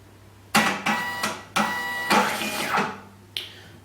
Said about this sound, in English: This printer model, the S4M, will also recalibrate when it's rebooted.